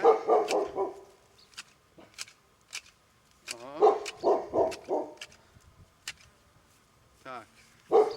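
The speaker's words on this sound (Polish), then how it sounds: "Ktoś przyjechał już, piesek robi awanturę." A dog in a garden barks in repeated short bursts at an arriving visitor, moderately close, with a person speaking between the barks.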